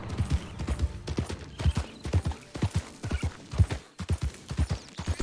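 Horse hooves clip-clopping in a steady walking rhythm in the video game Red Dead Redemption 2, close and distinct, with a brief whinny and faint creaks of tack.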